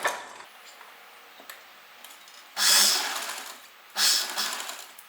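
A home sewing machine stitches a seam on leftover fabric for a child's kurta-pyjama set, running in two short bursts of close, steady whirring separated by quiet pauses with faint handling clicks.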